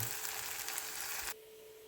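Potatoes fry with onion in a pan, a soft hissing sizzle with faint stirring that cuts off abruptly near the end, quiet and without talk.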